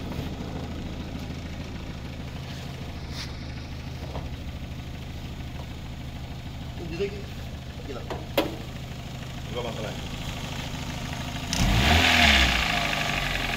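Engine of a 2008 Kia Picanto with automatic transmission idling steadily at a used-car lot, with a few clicks and knocks, then revving up briefly near the end, while people talk nearby.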